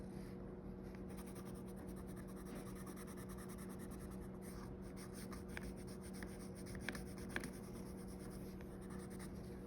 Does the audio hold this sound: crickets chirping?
no